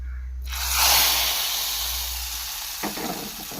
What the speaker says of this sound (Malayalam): കടുക് പൊട്ടി വന്നിട്ട് നമുക്ക് കറിവേപ്പില ഇട്ട് കൊടുക്കാം.